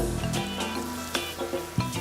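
Onions and garlic sizzling in a hot pan, a steady close hiss broken by sharp clinks and scrapes of stirring at irregular intervals, with no speech.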